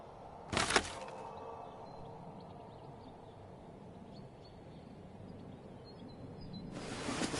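A single sharp pistol shot fired at a package in the Sherlock Holmes: Crimes and Punishments video game cracks out near the start, followed by a low, steady background ambience and a second broadband burst at the very end.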